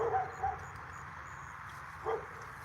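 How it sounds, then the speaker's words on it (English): Dogs barking at a distance outdoors during a fishing outing, a few short yips and barks in brief bursts under a steady background hum, with one louder bark near the end. "I guess the people are not home to shut those damn dogs out, killing my vibe."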